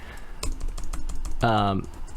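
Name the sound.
typing on a computer keyboard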